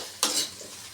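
Onions, green chillies and garlic stir-fried in a pan give one short close burst of hissing sizzle that fades quickly, with no talking.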